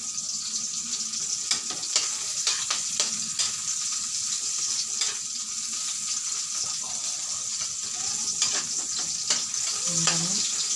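Chopped onion and tomato sauté in a hot pan with garlic, a steady close sizzle with occasional scraping stirs and light clicks, and no talking.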